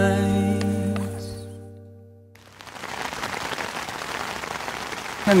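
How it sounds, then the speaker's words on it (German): Steady rain patters densely on a surface after a sustained musical tone fades out, continuing evenly and fairly close. "Und jetzt regnet es gerade wieder"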